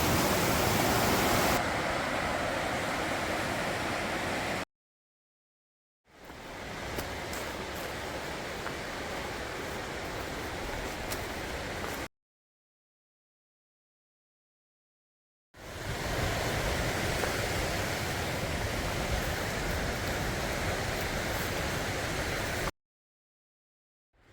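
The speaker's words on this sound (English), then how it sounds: "This is Boulder Creek." Boulder Creek on the North Umpqua Trail rushes in a steady, broad hiss, broken by several stretches of silence.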